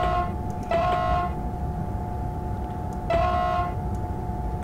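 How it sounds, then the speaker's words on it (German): Two sustained blasts of an ICE 1 high-speed train horn in Train Simulator 2012 on the Hagen–Siegen line, each lasting about half a second, the second slightly longer, sounding over a steady low rumble of the moving train. "Ich möchte länger hupen."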